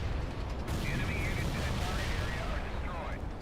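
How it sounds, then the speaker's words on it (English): A Soviet Assault artillery strike in World in Conflict lands as a low, continuous rumbling barrage of distant detonations, with a faint whining tone drifting over the top. "Dropping is all the artillery I have on that position."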